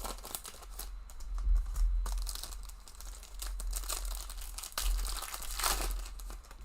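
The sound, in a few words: ripping open a trading card pack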